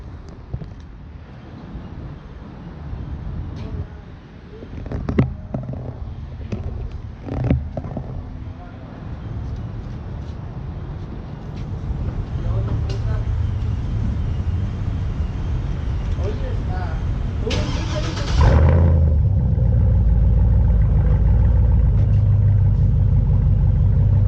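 An automatic pickup truck's engine cranks and catches near the end, settling into a loud, steady low idle rumble after earlier handling noises and a brief burst of starter sound.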